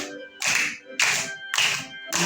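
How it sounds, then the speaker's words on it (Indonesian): Children in an Indonesian classroom clap their hands in a steady, even beat, about two claps a second, while singing or a tune carries on beneath the claps. "Boleh tepuk tangan."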